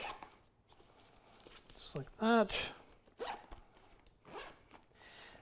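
A zipper is pulled along the corners of a location sound bag holding a six-channel wireless rig and two boom mics. Several quick rasping zips come up close, with someone speaking briefly before and after.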